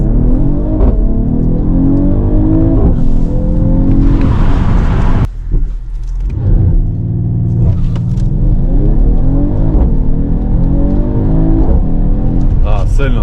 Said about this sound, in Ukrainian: цей звук, коли переключаю передачу, дуже подобається